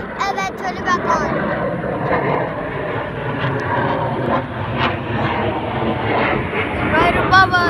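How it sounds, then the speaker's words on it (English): A jet aircraft performs at an airshow, its engine roar droning steadily overhead throughout, fairly loud and continuous, while spectators talk underneath. "I think he's gonna turn off his jet and then turn it back on."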